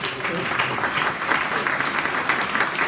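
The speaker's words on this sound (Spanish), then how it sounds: "yo creo que le debemos un aplauso y un agradecimiento" Steady applause from a lecture audience in a hall, filling the whole moment with dense, even clapping at moderate volume and no voices standing out.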